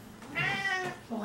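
A pet cat meows loudly and close at a New Year's home get-together, one drawn-out harmonic cry rising and falling, followed by the start of a second, over faint room noise.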